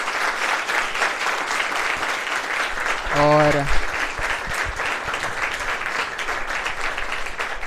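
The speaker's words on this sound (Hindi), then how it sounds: "तो जोरदार तालियों से सर का स्वागत करें" Applause from students welcoming a teacher at a Teachers Day event, steady and moderate throughout, with a short spoken phrase cutting in partway.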